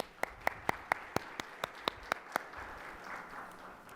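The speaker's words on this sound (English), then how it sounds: "let's give all of our partners and sponsors an amazing round of applause" A few people clap in sharp, evenly spaced single claps at a civic club forum, about ten distinct claps, before the sound fades into faint room noise without any voices.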